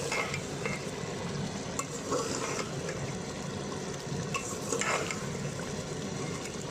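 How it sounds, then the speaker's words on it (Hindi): A spoon stirs peas into chicken keema frying in a pan, with a steady close sizzle and repeated soft scraping strokes that run continuously with no talking. "अच्छी तरह मिक्स कर ले मटरों को।"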